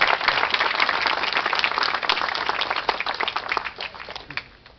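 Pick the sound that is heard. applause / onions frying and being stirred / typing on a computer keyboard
applause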